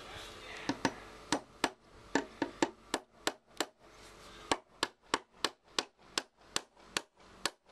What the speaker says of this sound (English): Making sure everything's square. Nailing it all in.